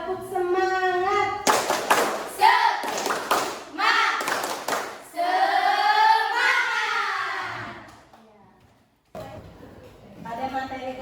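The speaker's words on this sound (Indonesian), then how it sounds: "mari kita tepuk semangat dulu ya" A class of children doing the tepuk semangat clapping chant led by a teacher, rhythmic bursts of hand claps alternating with loud sung and chanted voices, ending in a short quiet pause before voices return.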